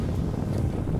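Strong gusty wind, 20 mph gusting to 35, buffets a microphone outdoors in late August, a dense low rumble that stays loud and steady from start to finish with no voices.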